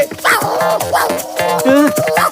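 A cartoon dog character yips and barks in quick, bouncy bursts, loud and close, with whimpering tones mixed into the animated bark sounds.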